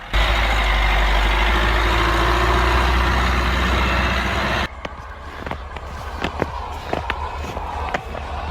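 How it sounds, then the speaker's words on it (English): A Fiat Panda engine runs in deep snow, a loud, steady low drone for about four and a half seconds, then the scene cuts to quieter surroundings with scattered clicks and knocks. "That Panda engine sounds like a tiny tank."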